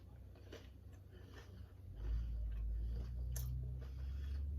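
Someone bites into and chews a shrimp gizzard rice croquette, making faint, soft crunching and squishing bites over a low background hum.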